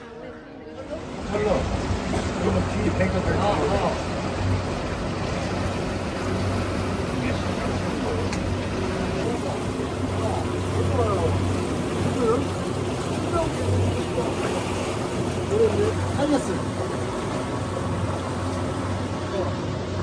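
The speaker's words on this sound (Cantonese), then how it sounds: "然之後喺呢度上船啦" A boat ride on Baofeng Lake in Wulingyuan, with a continuous low engine drone and rushing wind and water around the hull, and people talking over it.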